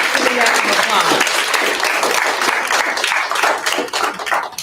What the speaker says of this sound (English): So you could give a round of applause.